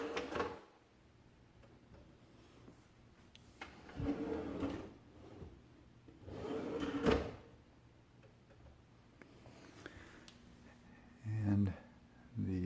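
A Blum soft-close undermount drawer slide is worked as a drawer is taken out, giving a few rumbling slides and solid wooden clunks spaced several seconds apart amid quiet room tone.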